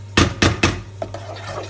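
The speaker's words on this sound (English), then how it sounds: "Give it a good stir." Flapjack mixture with golden syrup stirred in a pan on a very low simmer, three loud clanks of a utensil against the pan followed by softer scraping taps over a steady hum.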